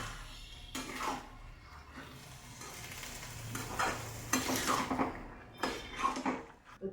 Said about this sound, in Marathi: छानसं मिक्स करून घ्यायचं